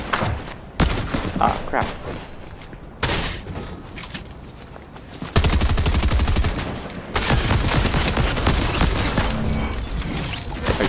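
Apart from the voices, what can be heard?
bot shooting gunfire in the video game Fortnite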